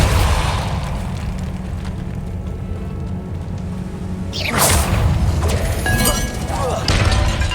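A Depulso force spell cast in Hogwarts Legacy, a sudden impact burst with a rushing sweep and crackling debris breaking out of a steady game background.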